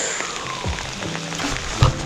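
Heavy pouring rain on a golf course during a fishing trip, a steady dense hiss of drops close by that fills the whole clip with no clear pauses.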